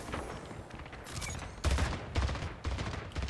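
Rapid bursts of gunfire from the Splitgate Arena shooter, loud and close, with several clustered volleys and short pauses between them, no talking.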